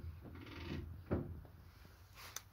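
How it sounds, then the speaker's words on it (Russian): Faint mechanical clicks and creaks from a ratchet turning bolts while restoring a Densha de Go 2 arcade cabinet, with a few scattered knocks and one sharper clack in a quiet room. "Продолжаем крутить болты."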